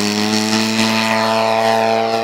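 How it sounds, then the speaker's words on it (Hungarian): Model airplanes flying at the Orosháza airfield give off a loud, steady, high-pitched engine drone that holds constant throughout, with no voices. "Kötetlenül repkedtek a modellek az orosházi repülőtéren"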